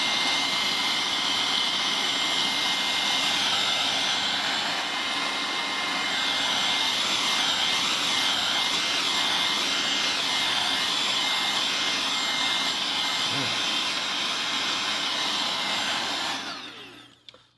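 A cordless 2-in-1 electric air duster and vacuum rated at 90,000 RPM runs alone as a loud, steady high-pitched jet-like whoosh for about sixteen seconds before winding down and cutting out.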